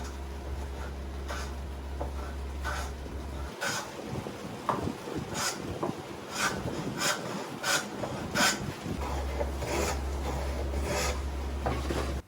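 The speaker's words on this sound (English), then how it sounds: "I'm basically cutting a dado here" A homemade quarter-inch wooden grooving plane, made from scrap wood, cuts a dado into a wooden board with repeated rasping strokes, each pass a close, scraping shave of wood in an uneven rhythm.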